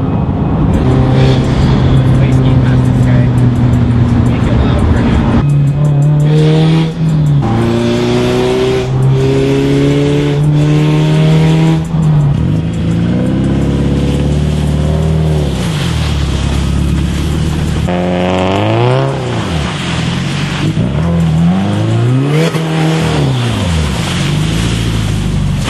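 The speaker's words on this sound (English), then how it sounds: "Donuts. This is a horrible spot to do donuts." Subaru car doing donuts on a snowy lot at freezing temperatures, engine revving loudly and repeatedly rising and falling in pitch as it spins, heavy continuous roar up close with wind buffeting.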